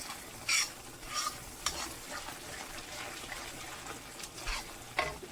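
Brain masala (bheja) frying on a low flame, a quiet continuous sizzle with intermittent spoon scrapes and stirring clatter against the pan, close up and without talk.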